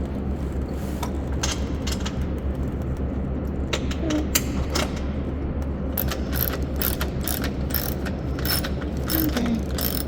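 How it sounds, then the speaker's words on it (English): A ratchet tightens an awning down to its mounting bracket, giving steady close clicking and mechanical rattling over a constant background hum, with a few sharper clicks mixed in. "just tightening the awning to the bracket"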